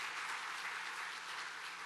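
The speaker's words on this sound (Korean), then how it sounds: "우리가 박수로 맞이하겠습니다" Congregation applause in a church welcoming guests, a soft, steady wash of clapping heard from a distance for a brief moment.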